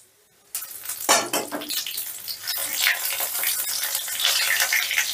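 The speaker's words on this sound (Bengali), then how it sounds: "ফোড়নটা একটু নাড়াচাড়া করে নিচ্ছি।" Whole spices (cardamom, cinnamon, dried red chilli, bay leaf and cumin) sizzle in hot mustard oil, starting abruptly and hissing steadily, with a spoon scraping and stirring through the pan close up.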